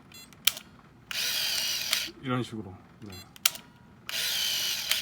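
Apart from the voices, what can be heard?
Canon AF35ML film camera motor advancing film after shutter press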